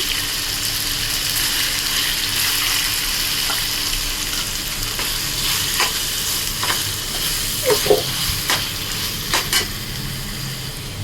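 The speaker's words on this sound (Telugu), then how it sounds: "మటన్ మసాలా పేస్ట్ అండి ఇది ఇది వేస్తున్నాము" Mutton masala paste fries in a hot pan for mutton curry, a steady loud sizzle throughout with a spoon stirring and scraping against the metal, several sharper clinks near the end.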